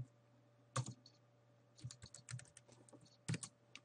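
Quick bursts of typing on a computer keyboard, with clustered clicky keystrokes separated by short pauses and a faint steady hum underneath, close and quiet with no talk.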